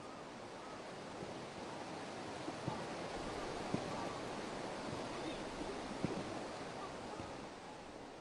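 Broad, steady rush of river water flowing in the dry season in Africa, a continuous even wash with no pauses, moderately loud and unbroken for the whole stretch.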